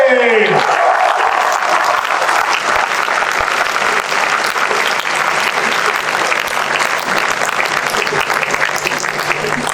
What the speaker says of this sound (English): A round of applause for yourself once again.